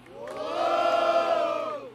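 Crowd at a rap battle roaring in a sustained, swelling chorus of voiced cheering and whooping that rises and fades over two seconds, loud and close.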